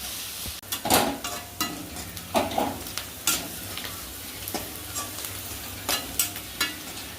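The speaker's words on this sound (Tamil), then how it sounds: "வெங்காயம் வந்து நல்லா வதங்கணும்" Onions frying with a bay leaf in a pan for a spicy village-style chicken gravy: a constant sizzle broken by repeated sharp scrapes and clacks of a spoon against the pan, close up, with no voices.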